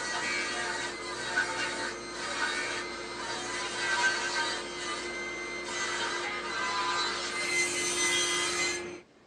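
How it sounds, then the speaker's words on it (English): A power saw cuts wood pieces for king-size bed legs, a loud continuous whining rasp with a steady motor tone that varies slightly as the blade bites, then cuts off at the end. "I'll cut these to a little bit wider from here so I can trim them down later."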